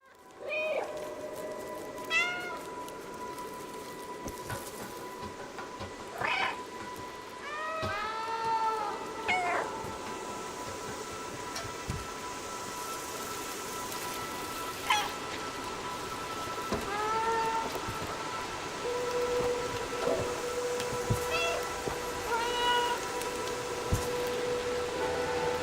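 A cat meowing repeatedly in the video game Stray, several close, clear meows scattered across a steady wash of rain falling on city surfaces, with no talking.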